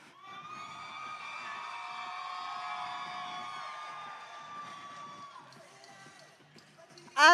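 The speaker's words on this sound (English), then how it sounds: "Can you hear that? They are cheering." Alliance supporters cheering in the stands at a FIRST Robotics (FRC) competition event in Belton, Texas, a sustained crowd roar with whoops and shouts holding steady, easing off, then a sudden louder burst at the end.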